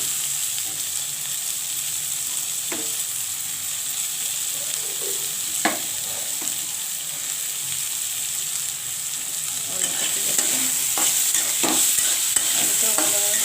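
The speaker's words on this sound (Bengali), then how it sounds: "আলুটা ভালোভাবে ভেজে নেব।" Potatoes sizzle in a pan as they are stirred and fried for a spicy leafy-greens and lentil-nugget dish, a steady hiss punctuated by scraping stir strokes that grow busier and louder toward the end.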